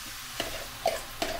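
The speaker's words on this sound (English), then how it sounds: "If it's hot enough, you should get a nice little sizzle just as you pour it in" Soft frying sizzle of banana pancake batter poured into a hot pan, with a few light scraping stirs, close and fairly quiet, no voices.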